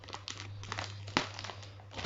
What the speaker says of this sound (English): So we'll get the trusty scissors.